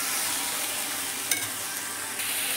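Spice masala with turmeric and garam masala fries in oil, giving a soft, even sizzle with one brief stirring clatter partway through; no one speaks.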